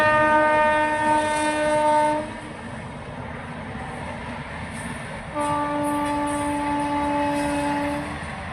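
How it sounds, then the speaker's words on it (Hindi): A train passes with a steady rumble of wagons and clatter, broken by two long, loud multi-tone horn blasts, one at the start and another midway, heard up close with no talk. "एक ट्रेन जा रहा है तो उसी का आवाज़ आ रहा है"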